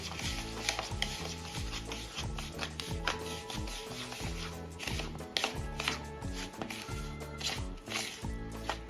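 A spoon works semolina (rava) and sour curd together in a bowl for rava uttapam batter, making brisk, rhythmic wet scraping and squelching strokes that repeat quickly and closely. No voice is heard.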